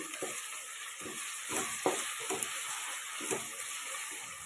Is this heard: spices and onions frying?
yes